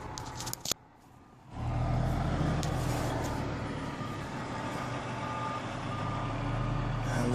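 Fire trucks at night idle with a low, steady rumble, with a soft repeating reversing beep running over the engine noise.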